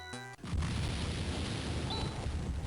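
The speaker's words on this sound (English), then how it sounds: "An explosion." In the Phantasy Star IV video game, a short tonal chime gives way to a sudden loud explosion, which then settles into a long, rumbling, crackling roar that holds steady to the end.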